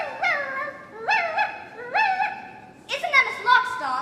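A human voice imitates a dog barking in a stage production of Mary Poppins: three separate, close, yappy barks, then a quicker burst of several more.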